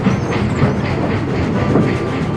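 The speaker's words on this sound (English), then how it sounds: "Edward cheerfully buffered up and the strange train set off." Toy train engine pulling a train, a loud, steady rhythmic clickety-clack of wheels rolling along track with a faint mechanical whine, continuous and close.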